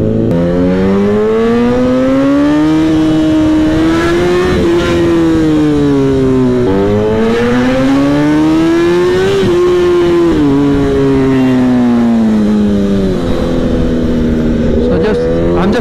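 A Kawasaki ZX-10R sport bike is ridden on the street among other motorcycles, its engine loud and close throughout and rising and falling in pitch through repeated accelerations and gear changes, with wind noise under the engine.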